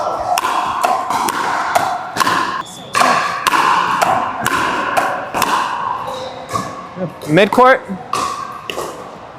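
A pickleball paddle strikes the ball in a fast mid-court volley exchange, many sharp hollow pops in quick succession, close and loud, with people talking over the hits.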